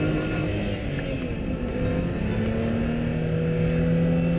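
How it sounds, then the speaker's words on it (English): A supercharged car engine of over 300 brake horsepower pulls hard through the gears, a steady loud drone with rising harmonic tones, close and continuous with no voices. "The supercharged engine develops over 300 brake horse, and it's there all the way through"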